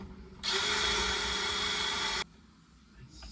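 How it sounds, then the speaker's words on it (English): A power drill being tested on a job restoring a 135-year-old spirit level, whirring loudly and steadily for about two seconds before cutting off, followed by quiet handling noise. "let's find a drill for this next and test it."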